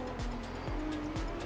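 Drift cars at a pro-am drift event launching off the start line: a close, steady engine roar rises in a few repeated gear-pull sweeps across a brief moment, with no voices.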